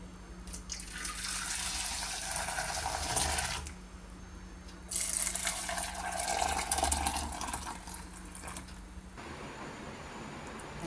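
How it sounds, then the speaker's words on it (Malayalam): Liquid pours in two steady streams separated by a short pause, a close, splashy trickle into a cup. "അപ്പോൾ ചായ ഒഴിച്ചെടുക്കാം"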